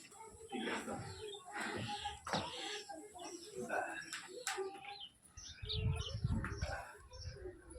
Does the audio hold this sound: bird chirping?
yes